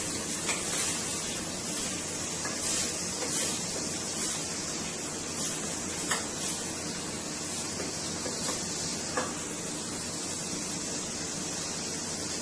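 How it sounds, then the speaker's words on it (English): About two tablespoons of butter melt in a pan over the heat, giving a steady, close hiss with faint spitting pops for several seconds and no voices. "So I'm going to let my butter melt for a little here."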